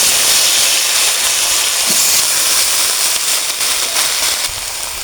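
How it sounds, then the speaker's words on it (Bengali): Raw green banana sizzles hard in leftover fish-frying oil, a loud steady hiss filling the whole stretch without a break. A tilapia curry is on the go. "মাছ ভাজা তেলের মধ্যে কাঁচা কলা দিই।"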